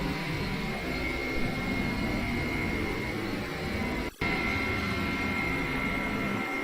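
A Boeing 707 jet taxis in the FSX flight simulator with a steady broadband engine whine and hiss. The roar continues evenly apart from one very brief dropout.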